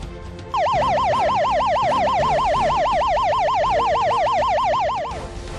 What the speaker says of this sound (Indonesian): Alarm kebakaran akan berbunyi seperti ini.